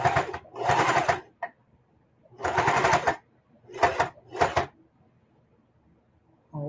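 A sewing machine stitching a mitered corner of a quilt binding, running in several short bursts of rapid stitching separated by pauses, close and moderately loud, with one brief back stitch.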